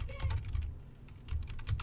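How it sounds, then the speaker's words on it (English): Quick bursts of typing on a Mac computer keyboard, close and fairly quiet, with a short pause midway before the key clicks resume. "and then type in localhost"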